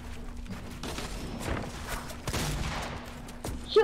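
Fortnite gunfire during a duos match, a few scattered shots and bursts of moderate loudness against in-game background noise.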